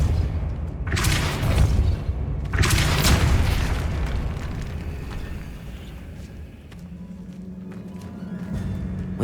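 Deep booming blasts from the Depulso spell in Hogwarts Legacy, two heavy, roaring impacts in quick succession that fade into a rumbling tail, followed by a quieter steady hum.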